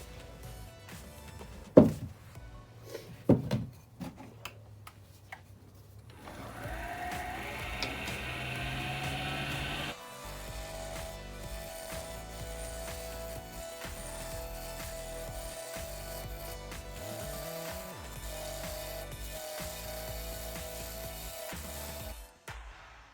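A walnut blank spins on a lathe and carbide turning tools cut into it, heard as a steady mechanical hum with rhythmic scraping. A few sharp knocks and a rising motor whir come first, with no one talking.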